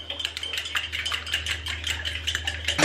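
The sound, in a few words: whisking eggs for scrambled eggs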